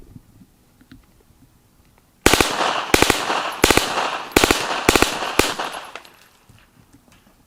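Rapid bursts of gunfire ring out loud and close at an outdoor shoot with steel targets, five or six tight volleys of quick shots in succession after a quiet start, each burst ending abruptly.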